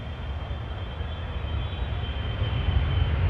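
A KLM airliner landing on the Polderbaan runway at Amsterdam Schiphol, a steady broadband engine roar that grows slightly louder and nearer over a few seconds, heard alone.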